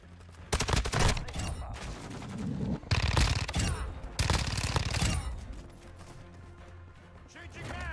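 AUG rifle fire in Modern Warfare 2 multiplayer, three loud rapid bursts of automatic shots separated by short pauses, followed by quieter game ambience.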